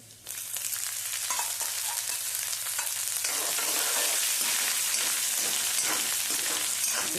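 Steady, loud sizzling of ginger frying in hot oil for a cabbage dish, with occasional stirring scrapes and crackles throughout.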